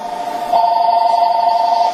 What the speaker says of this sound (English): The damn phone ring.